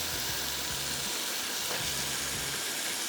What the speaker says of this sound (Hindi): ये कीमा भुन गया और अब इसमें आ गए आलू